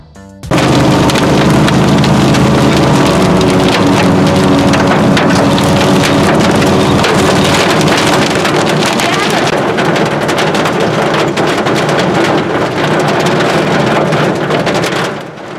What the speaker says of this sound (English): It started raining where we were gonna camp for the night